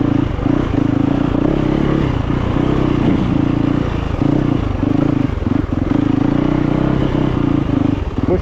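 A Yamaha YZ450FX dirt bike fitted with a throttle tamer is ridden over rough ground, its engine loud and close with a pulsing throttle and clattering chassis noise throughout.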